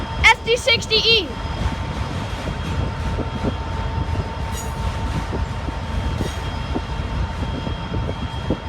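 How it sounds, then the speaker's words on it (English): Union Pacific freight cars roll past steadily on a train with an SD60E locomotive, a continuous rumbling clatter of wheels on rails with a brief squeal near the start and some talk early on. "Now the Union Pacific car's coming."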